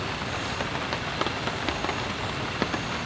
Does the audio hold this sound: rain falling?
yes